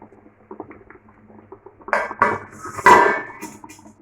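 A lid set onto a cooking pot, with a few light metallic taps and clinks followed by a louder close clatter as it lands and settles.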